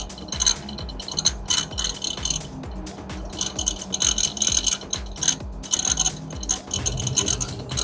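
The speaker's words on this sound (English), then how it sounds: "Now you can see here motor already start, drain pump also working" A Geepas top-loader washing machine runs its motor and drain pump up close, a busy mechanical clatter of rapid ratcheting clicks and whirring over a low hum, with no talking.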